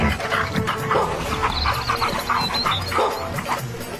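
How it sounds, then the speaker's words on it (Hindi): A dog in a Hindi cartoon story gives several short yipping barks and whimpers, loud and close, in a busy animated soundtrack. "तभी वहाँ एक कुत्ता आया"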